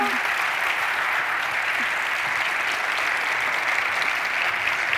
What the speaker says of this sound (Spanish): Por favor, un aplauso para ellas